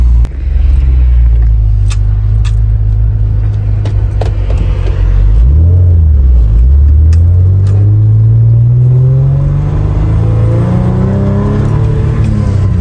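A 1989 Acura Legend with green plates drives along, its engine rumbling loudly and steadily, with the pitch rising and falling as it speeds up and eases off, close and continuous throughout.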